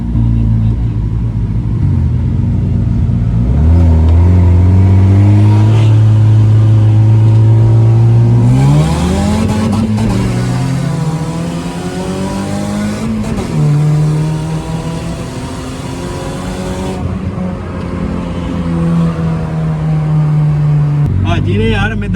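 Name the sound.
Suzuki FX and Swift GTI cars racing, engines revving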